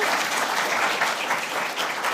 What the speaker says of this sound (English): Let's give a round of applause for Senator Dodd and Dr. Obermeyer.